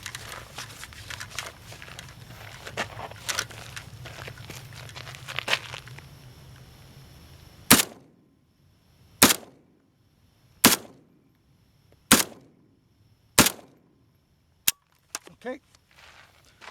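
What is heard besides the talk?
AK47 rifle shots fired at a target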